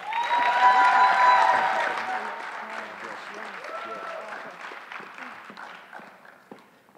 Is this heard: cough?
no